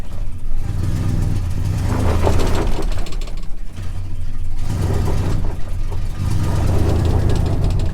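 A farm truck engine labors up a hill in four-wheel low, a loud steady low drone with surging rhythm and clanking drivetrain rattles, no talking.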